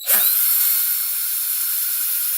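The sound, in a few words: power drill drilling a custom die-cast model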